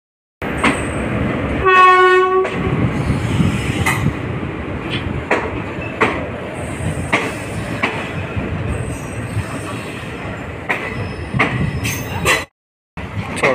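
The Guruvayur Express arrives at a platform on the Kollam to Madurai route with a loud blast of its horn, then a steady rumble of wheels and carriages and intermittent squeals and clanks as it rolls in close by.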